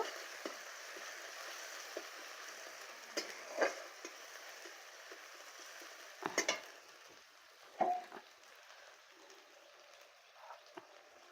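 Masala for a croaker fish curry fries in oil in a pan with a faint steady sizzle, broken by several louder scraping stirs spread through the clip and no talk.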